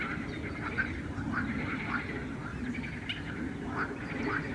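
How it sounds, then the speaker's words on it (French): Ducks quack and squawk repeatedly at a pond, moderately near, over a constant rough background of wind and water. "Il y a des oiseaux."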